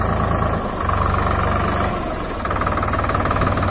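A New Holland 3630 tractor engine runs in second gear, a steady close-up chugging drone with a faint knocking beat that stays loud and even throughout, with no one speaking over it.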